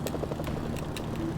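A helicopter approaches in the video game Mercenaries: Playground of Destruction, its steady rotor chop throbbing low and moderately loud through a short, continuous stretch.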